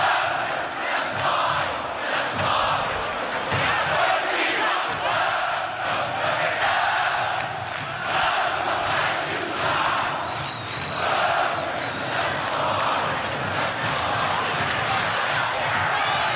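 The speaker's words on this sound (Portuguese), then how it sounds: "E agora a gente vê a torcida do Coritiba que voltou, né, na sintonia do jogo." Coritiba football supporters fill a stadium with steady, loud crowd noise and chanting during a 2011 Copa do Brasil match against Vasco, a continuous roar sustained throughout.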